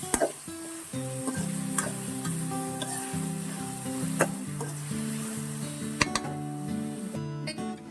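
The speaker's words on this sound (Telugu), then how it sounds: "ఇవన్నీ బాగా ఫ్రై అయ్యేదాకా ఆయిల్లో ఫ్రై చేసేస్తాను" Chopped tomatoes and brinjal frying in hot oil for a pachadi, a steady close sizzle with scraping stirs and occasional clinks of a spatula on the pan, no talking.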